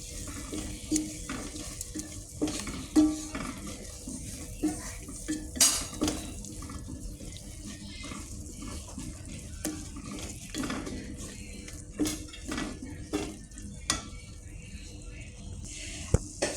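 A spoon stirs ground onion paste through chicken curry in a pan, producing close, irregular scrapes and clinks against the metal over a low simmering sizzle, with occasional sharper knocks.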